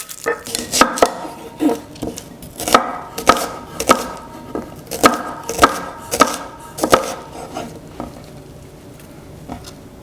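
A knife chops a quarter of an onion on a board for a Greek lamb souvlaki marinade, with a string of crisp, uneven close taps and a few dish clinks.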